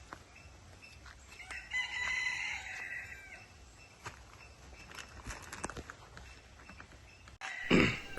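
Chickens on a chicken farm cluck and a rooster crows loudly and nearby, with scattered footsteps and rustling in between and one last sharp outburst near the end.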